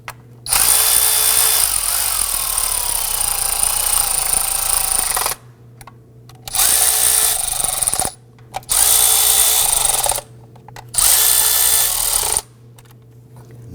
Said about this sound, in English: let's go ahead and snug these bolts down.